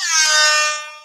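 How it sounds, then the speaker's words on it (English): A single short blast of an air horn from a phone app, bright and brassy, lasting about a second before fading. "I got air horn apps."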